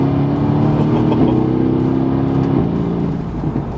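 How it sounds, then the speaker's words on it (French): Mercedes-AMG GT S engine with a 7-speed dual-clutch gearbox, a loud, close steady rev that holds its pitch, steps up briefly, then eases off toward the end. "Vous avez entendu cette boîte de vitesse"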